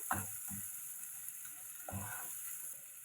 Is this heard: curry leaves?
yes